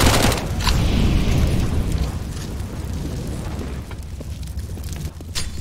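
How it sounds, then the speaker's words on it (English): A flashbang grenade bursting in Counter-Strike: a loud, close blast at the start that fades into a long, rumbling decay, with a few faint clicks and pops in the tail. "Throw in the flashbang!"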